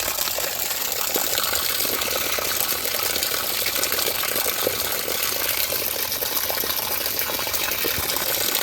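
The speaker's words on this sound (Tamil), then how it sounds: "பாருங்க, அப்படியே இதுலேருந்து அப்படியே இங்கேருந்து அப்படியே கீழே போயிடுது தண்ணி." Mountain stream water flows downhill through a valley village, a constant broadband rushing and gushing that stays steady and fairly loud throughout with no voices.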